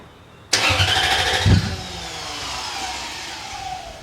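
A car cranks over and fires up after an engine replacement, running without mufflers. A sharp burst of starter and ignition settles into a loud, rough idle close by, with no speech.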